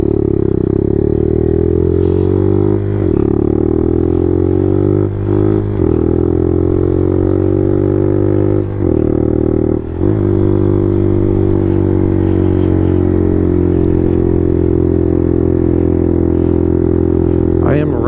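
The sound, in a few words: Suzuki DR200 motorcycle engine running after rebuild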